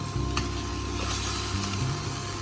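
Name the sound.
stirring dried fish (shutki) with mixed greens in a pan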